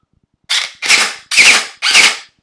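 An airsoft rifle fires four sharp, snapping shots at an even pace, loud and close, each one crisp with a short decay and near silence between them.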